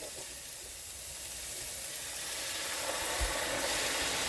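Marsala wine hitting a hot pan to deglaze it, producing a faint, steady steamy sizzle and hiss that builds slightly, heard alone without talking.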